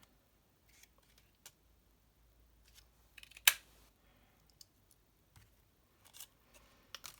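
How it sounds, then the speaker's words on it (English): Scissors snip through thin copper foil to cut a small half-inch circle, quiet scattered clicks and crisp cuts at irregular intervals with one sharper snip in the middle. "out of a bit of copper foil, I'm going to cut a 1/2 inch circle"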